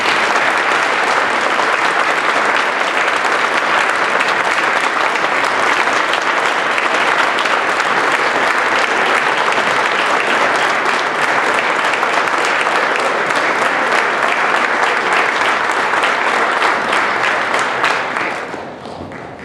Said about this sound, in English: Can we have one more big round of applause for our Kansas Masons who are here?